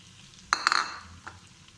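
Potatoes drop into a hot pan of browned crushed ginger and garlic for aloo methi, a few quick clinks and a short sizzling stir, then a fainter tap near the end.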